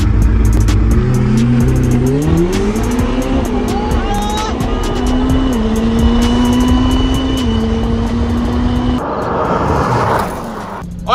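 Ferrari 488 Pista and McLaren 720S supercars roar through a drag race, engines rising in pitch as they accelerate hard, loud and continuous before the sound drops away near the end.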